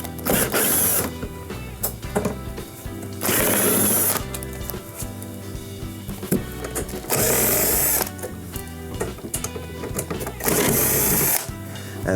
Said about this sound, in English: there's 2 screws on each one, so 6 screws total that we need to remove now